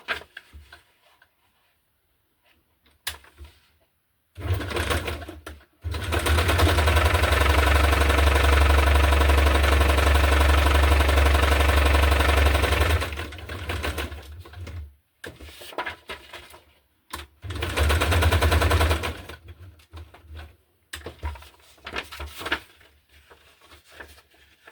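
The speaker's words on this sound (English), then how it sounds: "And then a straight stitch for here" Sewing machine stitching a straight seam through a hardcover junk journal, running in a long steady whirring burst followed by several shorter bursts with pauses, close and fairly loud.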